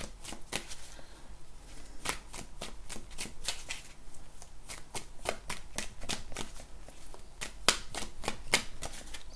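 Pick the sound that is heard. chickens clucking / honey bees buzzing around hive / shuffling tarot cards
shuffling tarot cards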